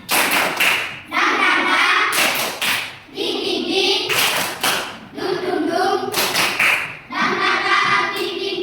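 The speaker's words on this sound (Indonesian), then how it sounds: "Tepuk semangat dipimpin oleh Ayu." A group of schoolchildren performs a rhythmic spirit-clapping routine, sharp bursts of clapping in set patterns broken by brief pauses and chanted voices, loud and close.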